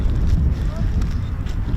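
Wind buffeting a microphone at RAF Coningsby airfield, a continuous low rumbling roar with gusty fluctuations and no other clear sounds.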